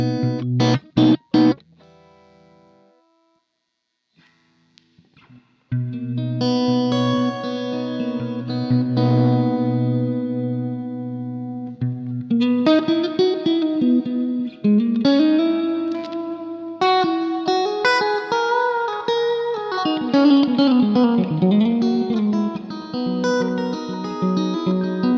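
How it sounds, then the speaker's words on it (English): Electric guitar played through a Quilter Labs direct amp with reverb engaged: a short strummed burst, a pause, then sustained chords and bending lead notes with lingering reverb tails. "let's dive into the reverb foot switch"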